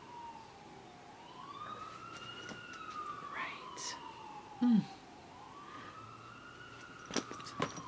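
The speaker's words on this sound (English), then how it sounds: "Sirens." A distant siren wails in slow rising and falling sweeps beneath faint background noise, with a brief murmured word and a few soft knocks.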